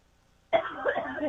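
A single sharp cough breaks a quiet moment, close and fairly loud, trailing off briefly.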